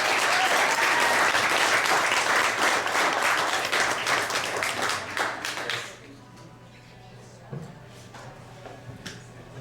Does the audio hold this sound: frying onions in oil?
no